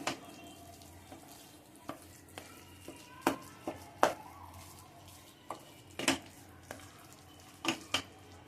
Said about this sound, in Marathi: छान मिक्स करूया